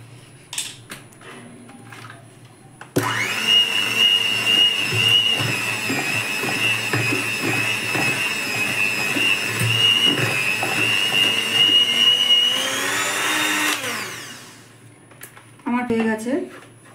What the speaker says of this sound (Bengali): এর মধ্যে দিয়ে আমি ভালো করে এই মেশিনটা দিয়ে ঘোরাবো।